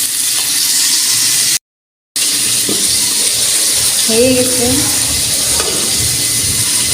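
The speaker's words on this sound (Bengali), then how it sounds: "এখানে আমার মাছটা ভাজা হইতেছে।" Pangas fish fries in a pan with a steady close sizzle that runs throughout, broken by a brief gap, while someone speaks a few words over it and faint sounds from a nearby school event carry in.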